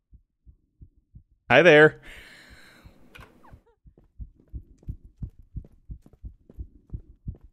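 A slow, steady heartbeat in a creepy horror video game, soft low thumps repeating through most of the stretch, with a brief spoken greeting and a louder burst of sound early on.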